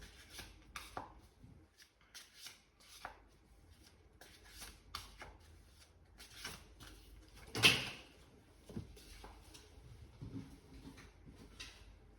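Tarot cards being shuffled in soft, irregular bursts of riffling and sliding, fairly quiet and close, with a sharper flutter partway through.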